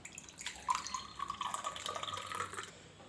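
Hibiscus tea with dissolved jaggery poured through a strainer, a soft close trickle and splash of liquid lasting a few seconds, faint and alone.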